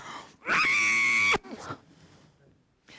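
A person screams into a cupped hand at a church talk, producing a loud, sustained, muffled cry of nearly a second that cuts off sharply, with speech before and after.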